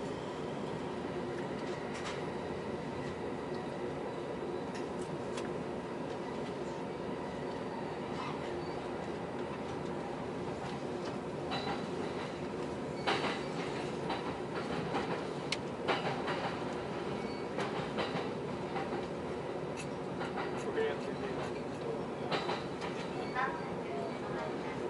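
A Shonan-Shinjuku Line train runs between Konosu and Ikebukuro, a steady interior rumble with rhythmic wheel clicks and occasional clunks, and faint voices in the carriage.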